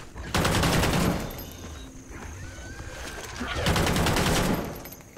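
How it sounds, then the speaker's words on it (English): Machine gun fire in Call of Duty: Ghosts Extinction: two loud, sustained bursts of rapid automatic shots, one opening the clip and one near the end, with quieter game ambience in the gap between them. "Having a machine gun always helped."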